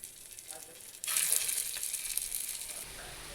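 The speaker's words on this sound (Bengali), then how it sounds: "এখানে আমি একটা ফ্রাই প্যানে হোয়াইট অয়েল বসিয়ে দিয়েছি তেলটা গরমও হয়ে গেছে এবার আমি এগুলোকে এর মধ্যে দিয়ে দিচ্ছি" Raw papaya pieces drop into hot white oil in a frying pan, and a loud crackling sizzle bursts in after a quiet second and continues steadily to the end.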